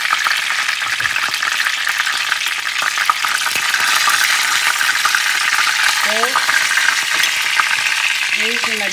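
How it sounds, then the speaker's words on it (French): Onion and meat fry and bubble in a pan with a steady, close sizzle that continues throughout, and faint voice fragments come through underneath. "Ici, gentiment, vous voyez, ça bouillonne. J'ai mon oignon qui commence à cuire."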